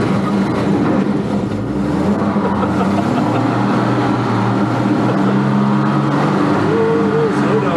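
Engine of a manual-transmission summer vehicle revving steadily and loudly at close range, a continuous low drone with slight pitch rises, while people talk over it.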